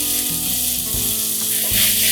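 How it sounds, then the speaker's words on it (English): Ginger, garlic and green chili paste sizzles loudly in hot oil in a pan, a steady close crackle with occasional stirring. "Let's saute this a little."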